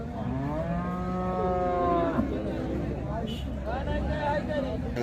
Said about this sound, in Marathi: तर ही पण एक गाय आहे, इथं बांधलेली आहे